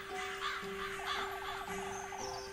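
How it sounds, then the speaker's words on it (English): Crows caw repeatedly in a video game, a run of harsh calls close together over a steady tonal drone and ambient game sound. "Oh, there's crows."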